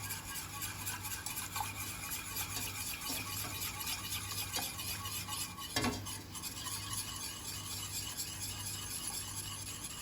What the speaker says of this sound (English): slowly add our milk, whisking constantly